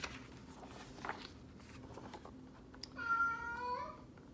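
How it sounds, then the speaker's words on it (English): A cat gives a single short, faint meow near the end, after a few quiet indoor taps and rustles. "That's my cat, Ed, meowing. He wants some attention."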